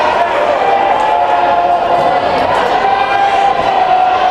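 A high school volleyball crowd cheers and roars in a gym at a tied score, a dense, continuous wash of voices that holds steady and loud throughout.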